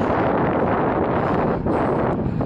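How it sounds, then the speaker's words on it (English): Strong wind buffets the microphone during a bike ride in a continuous, loud rumbling roar with no pauses. "it's getting a bit windy"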